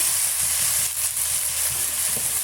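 Ripe chopped tomatoes go into frying ginger garlic paste for a chicken gravy, setting off a steady, close, bright sizzle with faint stirring underneath and no talking.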